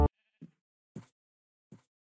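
Sheep bleating in Minecraft, three short separate bleats spaced about half a second apart, clear and isolated against silence after a brief opening burst.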